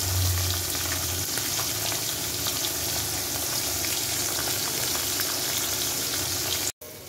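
Amudi fish fry in a pan with a steady, dense sizzle and crackle that stays even throughout, close and unbroken, with no voices.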